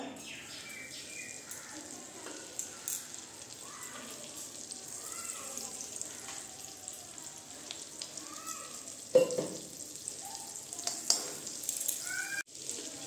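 Butter melting and sizzling in a hot wok for Bengali butter chicken, a soft, steady crackle with a few stirring clinks near the end.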